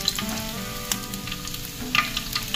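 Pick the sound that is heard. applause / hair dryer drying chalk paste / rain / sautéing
sautéing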